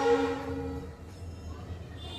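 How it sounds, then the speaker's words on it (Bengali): A train passes near a quiet village home in the morning, its horn-like tonal blare strong at the start, then a steady low rumble of wheels and carriages rolling by. "যখনই কথা বলি তখনই একটা না একটা ট্রেন যাবেই"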